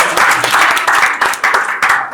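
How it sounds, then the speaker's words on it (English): An audience applauds for a speaker's wife at a summer camp event, dense clapping swelling and dipping in waves for the whole stretch. "You should clap for her"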